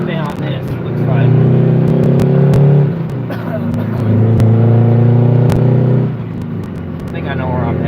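An old dump truck's engine drones while driving, swelling twice into longer, louder revving pulls with steady harmonic rumble, then easing back, heard from the cab with a voice talking alongside.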